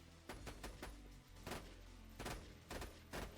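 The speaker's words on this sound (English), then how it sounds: "It's burst fire." Lyuda gun in the video game War Machine Mod firing in burst mode, a faint series of sharp, evenly spaced shots in quick clusters separated by short gaps, with no talk over them.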